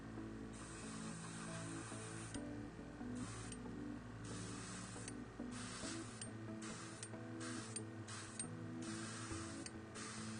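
Short bursts of aerosol spray paint hiss on and off while highlighting fur and quills on a Space Wolves miniature, several close, intermittent sprays over a faint mechanical background hum.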